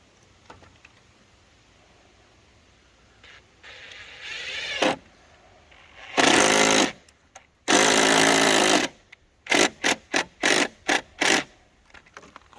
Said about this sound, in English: For drilling in such big screws, I'd say this ray will be impact.